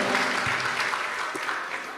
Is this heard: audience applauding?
yes